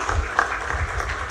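Audience applause welcoming a speaker to the stage at a formal government event, a short burst of steady clapping mixed with a low hum and murmuring voices.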